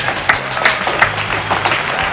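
Applause in a hall at a lavish Jakarta wedding venue, an audience clapping steadily for a couple of seconds with a few sharper, louder claps standing out and no clear speech over it.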